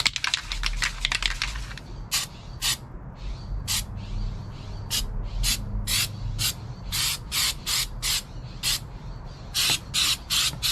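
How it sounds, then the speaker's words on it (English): Rubberized undercoating hisses from a spray can in a freshly painted car engine bay, coming in short, sharp repeated bursts close to the mic with brief quiet gaps, after a quick run of rapid spritzes at the start. "we are about to spray some rubberized undercoating"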